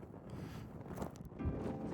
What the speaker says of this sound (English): Ooh, the wind is back.